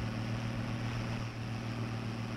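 An old tractor engine in Farming Simulator 22 drives along with a steady, droning low hum and even tonal throb, continuous and fairly loud with no talking.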